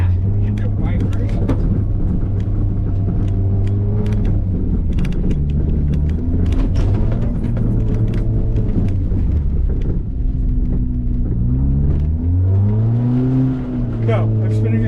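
Toyota Tercel engine revving hard and steadily while its wheels spin out, stuck in place, loud and close with the pitch wavering and rising; people talk over the engine.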